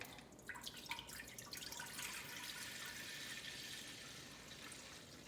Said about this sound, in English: We just simply pour the apple juice in.